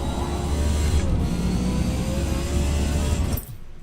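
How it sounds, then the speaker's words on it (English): Race car engine in the video game Forza Motorsport heard through another player's open mic, a loud, steady, buzzing engine drone that holds throughout and cuts off abruptly near the end. "I knew I was hearing somebody's car other than mine."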